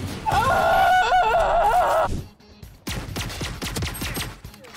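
An Odin machine gun fires in the Valorant video game: a rapid burst of close gunfire follows a tonal, wavering in-game sound, with no voices over it.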